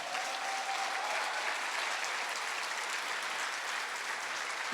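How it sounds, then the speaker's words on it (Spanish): A church congregation applauds at a Sunday service, a steady dense wash of many hands clapping that holds evenly from start to finish with no voices on top. "Dale un aplauso al Señor."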